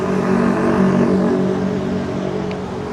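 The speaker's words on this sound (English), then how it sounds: "And back to the city traffic." City traffic in Indonesia rumbles close by as a continuous loud engine drone with a low steady hum, no distinct passes standing out.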